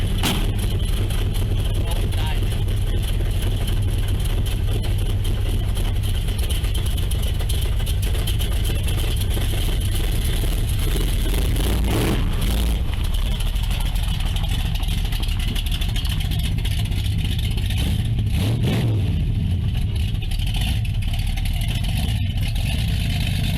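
Big block engine with a big cam, loud and close, running with a lumpy rumble and rising into hard revs, with people talking over it throughout.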